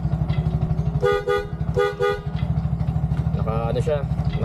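A loud snail horn on a Bajaj Maxima Z three-wheeler blares in three short honks, two close together then a later one, over a steady idling engine with someone talking underneath.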